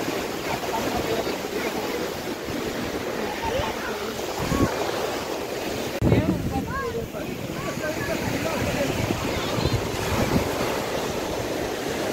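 Ocean surf rolls steadily onto Aquarium Beach in Goa, a continuous broad wash of breaking waves with wind buffeting the microphone and faint voices in the background.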